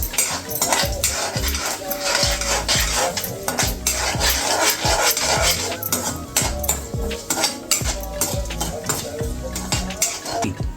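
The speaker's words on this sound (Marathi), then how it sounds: "हिंग टाकायचं अंदाजे आणि जिरं पण अंदाजे आणि चांगलं ढवळून घ्यायचं" A spoon scrapes and clinks rhythmically against a pan while asafoetida and cumin are stirred in hot oil, with a faint sizzle underneath and a voice talking over the busy metallic stirring.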